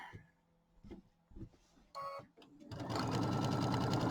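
Sewing machine stitching a quarter-inch seam on a bench pillow, starting after soft handling noises and running loud and steady with a fast rhythmic stitching chatter through the last second and a half.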